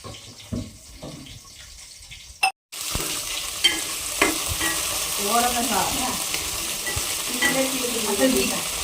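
Red chillies fry in a pan for a tamarind chutney, a steady close sizzle and crackle with stirring scrapes, broken by a brief silent gap early on.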